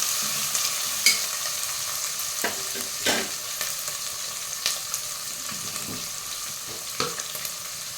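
Green peas and carrot sautéing in oil for a home-style veg pulav, a steady soft sizzle with a few sharper stir clicks and scrapes scattered throughout, close by and without talk.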